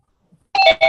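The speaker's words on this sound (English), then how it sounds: "I'm gonna try to call my phone" Phone ringtone from an incoming call during a remote court session: a sudden bright electronic ring with two close bursts after near silence, loud and alone.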